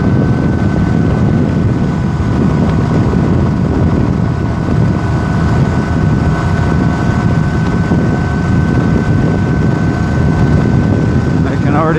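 A Honda Rebel 250cc motorcycle runs at full throttle into a headwind at about 50 mph on a highway, producing a steady, loud engine drone heavily mixed with constant wind roar.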